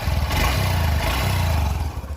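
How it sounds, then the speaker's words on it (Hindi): Exhaust note of a new 2025 Honda SP125 OBD2B motorcycle, a loud, close, low engine drone with a couple of gentle blips in revs and no voices. "एग्जॉस्ट नोट भी आपको सुना देता हूँ भाई।"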